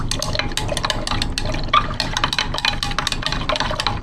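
A spoon swirls through a gold solution just dosed with vitamin C powder: soft, close liquid sloshing with light clinks against the container, steady throughout, with no talking.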